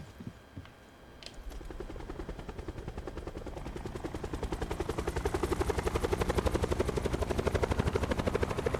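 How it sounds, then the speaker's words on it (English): Helicopter in the Call of Duty Black Ops 4 Blackout battle royale game, its rotor thump starting faint after a brief gunshot and building into a loud, fast, steady chop that grows closer over several seconds. "Helicopter, nice."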